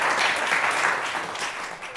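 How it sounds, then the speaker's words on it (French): An audience at a Lausanne cinema award ceremony applauds in a dense, continuous wash of clapping, moderately loud and steady throughout. "On peut l'applaudir."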